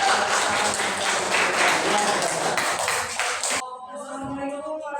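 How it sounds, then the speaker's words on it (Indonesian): Classmates clap for a student group in a classroom, a burst of dense applause lasting a few seconds that cuts off abruptly, followed by quieter voices. "Beri aplaus untuk kelompok."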